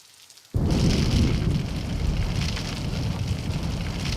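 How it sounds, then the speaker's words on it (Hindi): Heavy downpour pouring outside starts abruptly after a moment of quiet, becoming a dense, steady roar of rain that continues loudly with no voices over it. "देख बाहर छमाछम बारिश हो रही है"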